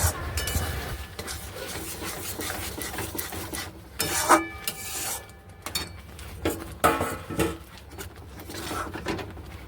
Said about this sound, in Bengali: এইদিকে মশলাটা বেটে নিচ্ছি, শুকনো লঙ্কা, আদা, জিরে